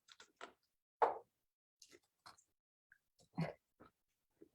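Crunchy Christmas snack being chewed up close, a few distinct crisp crunches scattered with short pauses in otherwise quiet surroundings, with faint mouth sounds between bites.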